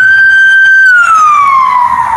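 A loud, close police car siren holds a steady high wail, then sweeps downward in pitch as it winds down.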